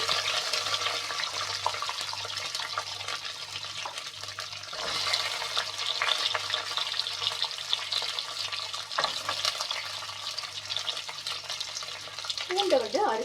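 Onion and garlic are frying in hot oil with fenugreek seeds for a thattaipayaru kulambu, giving a continuous crackling sizzle with a low background hum, and a voice briefly comes in near the end.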